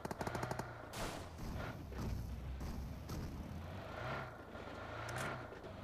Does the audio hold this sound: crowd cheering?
no